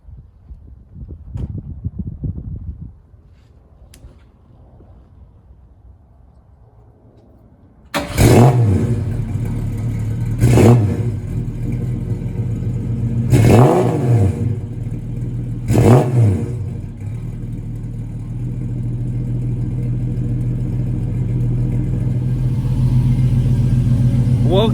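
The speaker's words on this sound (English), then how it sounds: "we'll get a good look for a cold start" A 1965 Ford Mustang coupe with a new exhaust cold-starts after several quiet seconds, catching loudly and blipping through three sharp revs before settling into a deep, steady rumble up close.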